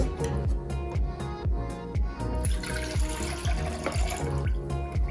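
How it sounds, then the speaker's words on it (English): Cherry juice pours steadily into a pot with a gurgling, splashing sound and rhythmic glugs, close by, with no talking. "Now we're just going to pour in the cherry juice as well."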